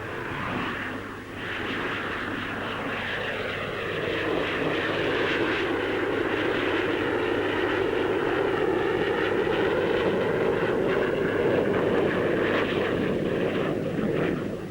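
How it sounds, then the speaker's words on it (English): The two-seater radar-carrying Gloster Javelin jet fighter flies at the Farnborough airshow, a loud, sustained roaring rush with broad turbulent noise that swells slightly as it passes, continuous throughout with no voices. "Among the fighters on show is the two-seater radar-carrying Gloucester Javelin."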